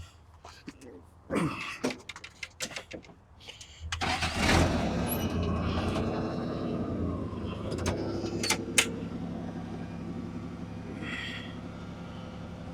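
A forklift engine cranks in short bursts, then catches and settles into a steady running rumble with a few sharp clanks, while someone talks quietly at the start.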